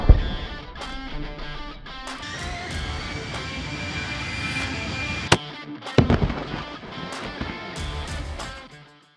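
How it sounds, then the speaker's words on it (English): A .300 Win Mag soft point rifle round fired into ultra-high molecular weight polyethylene armor plate outdoors, heard as a sharp loud crack with a heavy booming echo rolling on, followed by a second burst of impact noise, no talking. "we're gonna shoot the same 300 WinMag soft point at it"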